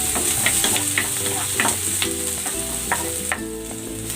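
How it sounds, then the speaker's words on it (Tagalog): Garlic and onion sizzle steadily in a hot pan for beef caldereta, with close, repeated clinks and scrapes of a spoon stirring through the frying. "Magigisa na ako ng bawang."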